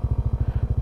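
A motorcycle engine idles while being parked near a white sand beach, a close, loud, even chugging pulse at a steady rapid beat with no voices over it.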